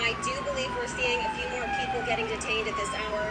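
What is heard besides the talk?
emergency vehicle sirens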